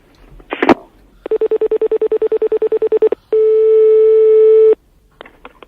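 A telephone line during a prank call: a brief clatter, then a rapid evenly spaced series of beeps, followed by a long steady tone, loud and close, and a few faint clicks at the end.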